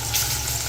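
Potatoes go into hot oil already spiced with nigella seeds and green chillies, giving a brief, even frying hiss up close.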